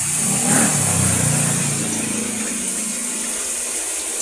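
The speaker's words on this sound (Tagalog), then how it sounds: "Bubuksan ko na po ang gripo dito." Water rushes steadily from an opened faucet into an LG twin-tub washing machine, a loud, continuous hiss and splash with no voices.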